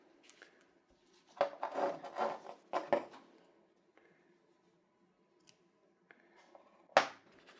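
Scissors snip off leftover embroidery thread after a knot, a few quiet close crunches and rubbing sounds with pauses and a sharp final cut in a quiet room.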